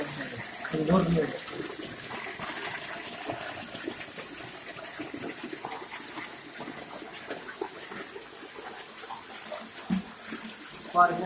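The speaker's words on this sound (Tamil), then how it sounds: "இப்போ போர் வாயில் தண்ணி எப்படி எவ்வளோ வேகமாக வந்துருக்கு இந்த லெவலுக்கு வந்துருக்கு" Water rushes from a side borewell being drilled into a stone-lined well, a steady broad gush with splashing, brief louder bursts near the start and end, heard under a noisy outdoor background.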